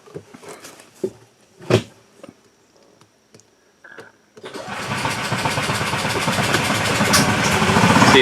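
A Honda GX390 or Predator 420 small engine on a golf cart conversion, running with the choke partly on, gives a few clunks and short sputters, then fires and settles into a loud, steady, close idle.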